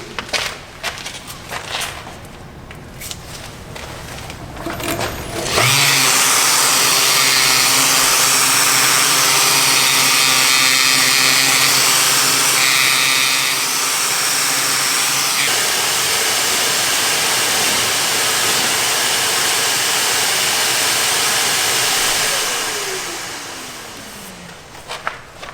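A wooden platter with a dyed rim being sanded on a lathe with 180-grit sandpaper, a loud, steady abrasive whir that starts abruptly after quieter handling and tapers off near the end.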